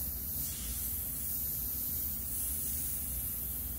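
Steady airbrush hiss as black paint is sprayed to outline thick graffiti letters, a continuous close spray with low background rumble and no talk.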